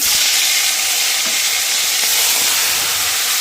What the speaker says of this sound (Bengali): কাঁকড়াটা নুন হলুদ দিয়ে ভালো করে ধুয়ে পরিষ্কার করে নুন হলুদ দিয়ে মাখিয়ে একটুখানি ভেজে নিচ্ছি